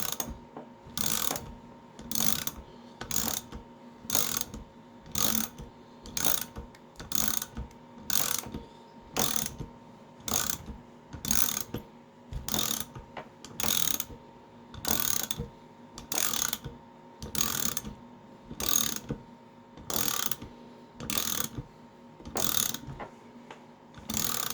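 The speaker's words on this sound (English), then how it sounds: "So as I ratchet this, it's slowly compressing the springs right now." A hand ratchet works a valve spring compressor on a Chevy Camaro SS LS3 engine, giving regular rapid clicking bursts repeated at an even pace, close and clear with no talk.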